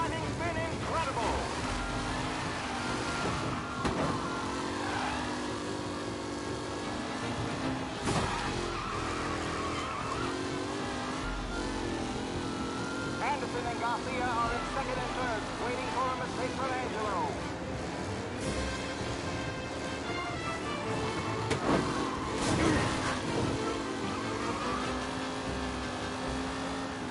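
Race cars roaring around a track in the Mafia video game, with steady engine drone, shifting revs and occasional tire squeals and skids running continuously throughout, overlaid by game music and a commentator-style voice.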